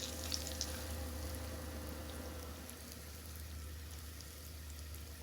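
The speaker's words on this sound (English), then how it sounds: "All right, that oil's ready. Let's start putting in some of this cube steak." Cube steak frying in hot oil in a small pan gives a quiet, continuous sizzle with faint popping, steady and fairly distant, without talk.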